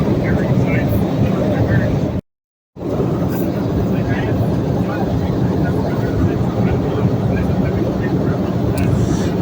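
A steady, loud broadband roar fills the cabin of a small airplane in flight above the clouds, continuous apart from a brief dropout, with a voice talking over the drone.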